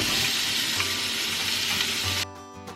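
Onion goes into very hot oil with sweet potato, giving a loud, close, continuous sizzle that cuts off abruptly near the end.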